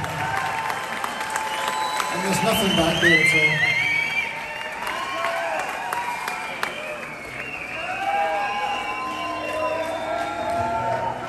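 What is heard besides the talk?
concert audience applauding and cheering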